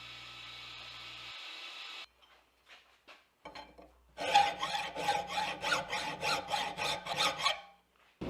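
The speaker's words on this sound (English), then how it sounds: "I'm hand sanding this out before I heat treat it this time, because I want the hamon to really pop." A long steel knife blade being hand sanded before heat treatment, with steady rhythmic rasping strokes back and forth, close and fairly loud, following a few quieter scrapes and a brief steady hum at the start.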